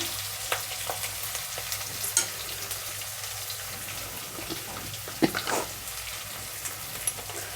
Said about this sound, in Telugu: ఉల్లిపాయలు కొద్దిగా వేగనిద్దాము పచ్చివాసన పోయేదాకా